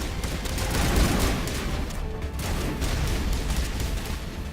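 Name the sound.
rockets exploding in a 2007 space RPG video game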